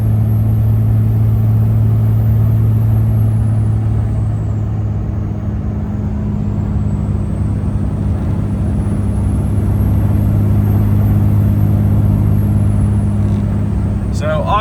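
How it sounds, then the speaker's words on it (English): Cummins second-gen engine-swapped truck with a BorgWarner SXE362 turbo and muffled exhaust, towing: a loud steady low drone from the cab with a constant tone and a rising whistle near the end. "Hear the exhaust tone."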